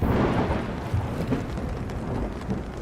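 A distant cartoon-style thunder effect on a rainy night by a river: a continuous low rumbling wash mixed with steady rain-like hiss, holding at an even level throughout without clear breaks.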